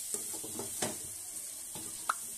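Chicken pieces fry in oil for Bhimavaram-style kodi pulav, a quiet sizzle with soft stirring scrapes and a couple of light pan clinks, close and without speech.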